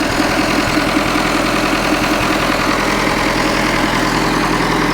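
A combine harvester's engine idles right after a cracked crankshaft was replaced, a loud, steady low rumble running unbroken throughout with no talk.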